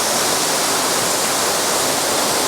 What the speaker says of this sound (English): we're coming up on the waterfall, so it's gonna get a little loud